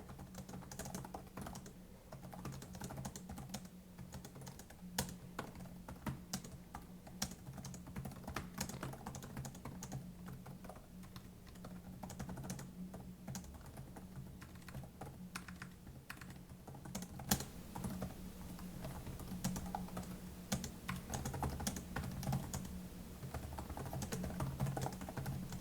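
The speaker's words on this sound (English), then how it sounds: "Let's give it the quick typing test." Rapid, steady typing on a Lenovo IdeaPad 5 2-in-1 laptop keyboard from 2024, a dense run of soft, close key clicks and taps continuing without pause and with no talk.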